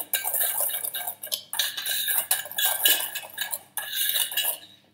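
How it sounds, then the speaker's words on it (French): A whisk clinks and scrapes steadily against a bowl, stirring custard powder or cornstarch into a little milk for a strawberry millefeuille cream, in close, busy bursts with brief pauses and no talking. "je vais délayer, je vais incorporer 48 g de poudre à crème ou de maïzena"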